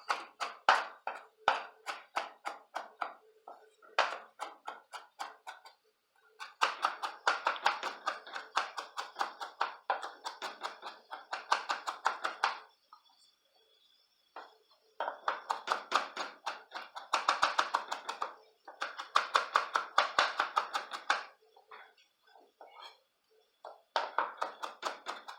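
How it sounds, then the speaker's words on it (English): Herb leaves are roughly chopped for a pineapple salsa, with rapid knife taps on a cutting board coming in close, crisp bursts of quick strokes separated by short pauses. "Chop some leaves up for our salsa. Just a very rough chop on these."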